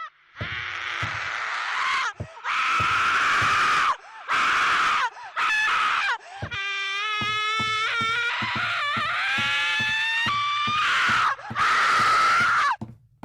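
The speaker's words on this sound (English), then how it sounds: "There's moans, groans, and what sound like people screaming for their life." Moans, groans and wailing screams come from a creepy horror video game. They are loud, drawn-out cries and shrieks, with a long quavering wail in the middle, separated by brief pauses.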